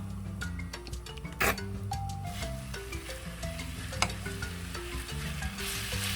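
Eggplant and onion stir-frying in cooking oil, a continuous close sizzle with stirring scrapes and an occasional clink of a utensil against the pan, heard without talk.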